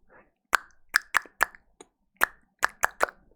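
Snare drum rim clicks ring out as crisp, woody knocks, about nine in an uneven rhythm of pairs and short runs, close and moderately loud against silence.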